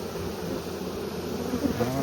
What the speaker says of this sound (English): But just the way those bees are marching right in that box,